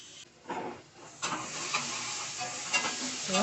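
Turmeric and salt are stirred into a tomato mixture frying in a pan, with steady sizzling and hiss broken by scraping stirs, close and moderately loud, with no talking.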